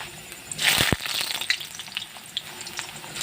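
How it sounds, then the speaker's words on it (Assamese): Potato pieces frying in hot oil for a goat meat curry, a steady close sizzle with a brief louder crackle and a few stirring scrapes. "এতিয়া মই আলুকেইটা ফ্ৰাই কৰি লওঁ"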